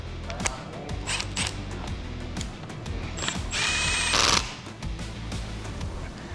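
A ratchet wrench tightens cylinder head studs on a 6.7 Cummins diesel engine, with rapid, close clicking pawl strokes repeating in bursts and a short metallic whir partway through.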